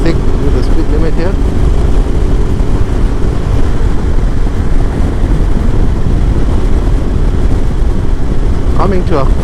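A Suzuki V-Strom 650 XT on Michelin Anakee Adventure tyres rides along a road, its engine drone and heavy wind rush loud and constant, with brief voice sounds here and there.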